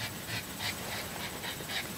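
A pet dog indoors pants rapidly in rhythmic breathy bursts, with faint whimpers mixed in, close and fairly loud over a constant background hiss.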